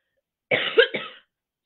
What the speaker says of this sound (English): you might want to mute me anyway, just because that coughing's annoying